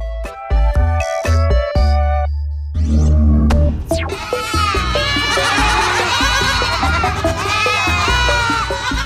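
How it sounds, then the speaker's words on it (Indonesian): Damascus goats bleat loudly several times, wavering cries layered over one another, preceded by a brief electronic melody. "Kambing Damaskus merupakan hewan dengan wajah yang unik"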